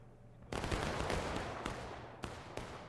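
Massed rifle volley erupts in a Grand Campaign battle game, a dense crackling burst of many shots at once followed by a continuing rattle and two more sharp reports near the end, loud and close.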